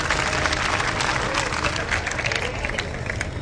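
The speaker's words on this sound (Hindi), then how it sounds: "एक बार जोरदार ताली बजा के उनका स्वागत कर दें।" Loud, dense applause from an audience at a Hindi comedy poetry gathering welcomes poets to the stage, steady and continuous throughout with a crowd murmur beneath it.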